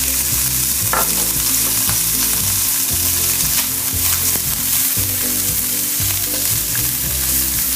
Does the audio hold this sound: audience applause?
no